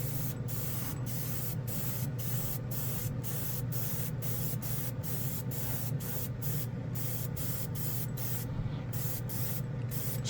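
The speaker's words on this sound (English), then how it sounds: "you can spray, no problem, a full spoon, no problem at all" A NEOECO airbrush fitted with a 0.2 nozzle and its cap removed sprays onto an oily spoon, making a steady, loud, close hiss with a faint rhythmic pulsing running through it.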